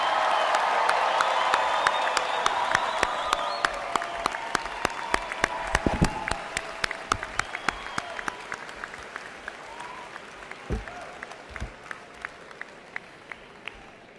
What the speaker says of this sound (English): a round of applause for our graduates of the class of